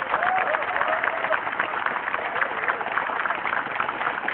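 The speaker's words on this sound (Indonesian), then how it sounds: "tepuk tangan dulu semuanya" Studio audience applause on an Indonesian television talk show, a continuous, even wash of clapping across the whole stretch at moderate loudness.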